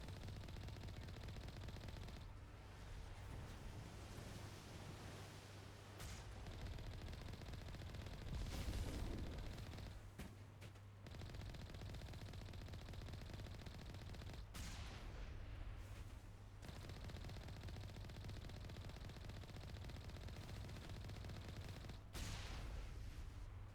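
Sustained gunfire and artillery from the video game Mass Effect 1, dense rapid bursts with heavy booms rolling through the whole stretch, loud and continuous with brief gaps.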